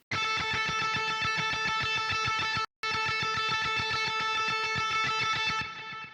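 Electric guitar through the high octave lead preset of the STL Tones Tonality plugin plays a fast, rhythmic metal lead line. There is a brief dropout partway through, then the guitar continues and fades at the end.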